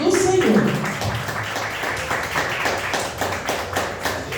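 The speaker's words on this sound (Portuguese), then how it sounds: "E as palmas que glorificam o nome do Senhor." Church congregation applauding together, a quick rhythmic patter of many hands clapping at a steady pace, moderately close, with a voice heard briefly at the start.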